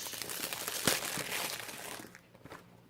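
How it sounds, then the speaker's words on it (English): Crinkling cellophane wrapper being torn open on a box of Celestial Seasonings Sleepytime tea, close and fairly loud, with a sharp crackle near the start before the rustling fades to quieter handling. "The Sleepytime Celestial Seasonings comes in a cellophane wrapper, as most of their teas do."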